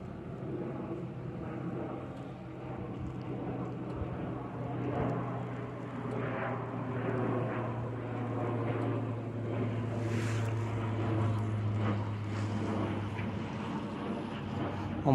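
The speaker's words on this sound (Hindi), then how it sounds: "प्लेन के आने का टाइम हो चुका है और प्लेन की आवाज़ भी मुझे आने लगी है ऊपर से" An airplane approaching to land at Bilasa Devi Kevat Airport near Bilaspur under cloudy weather gives a faint, distant, steady engine drone with a low hum that swells slightly as it nears.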